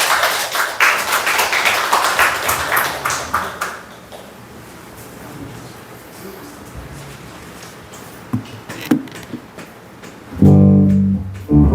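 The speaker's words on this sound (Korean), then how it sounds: "우리 박수로 한번 맞아볼까요?" A church congregation at a Sunday service claps in welcome for the choir. Brisk clapping comes first, then it thins out to scattered claps over a quiet room, and a low tone enters near the end.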